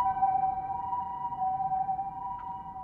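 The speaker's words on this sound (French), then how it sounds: "là il y a les ambulances qui gâchent un peu l'ambiance" An ambulance siren sounds at a distance as a steady, sustained tone, moderately loud over quiet background with no talking.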